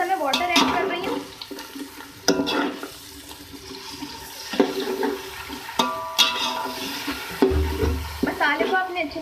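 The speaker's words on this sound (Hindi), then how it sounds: "थोड़ा सा मैं वाटर ऐड कर रही हूँ।" Water poured into spices in a frying pan and stirred, with scraping, sizzling bursts and sloshing recurring at intervals through the passage, near and moderately loud.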